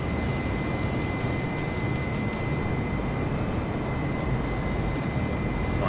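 Steady, loud engine roar from an Airbus A320 airliner in Flight Simulator, a continuous broadband drone with a faint whine holding through the whole stretch, no voices.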